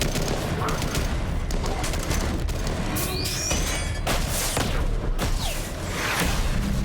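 Dense enemy gunfire in the sci-fi shooter game Mass Effect 3, rapid overlapping bursts and blasts with whooshing projectiles, loud and continuous throughout.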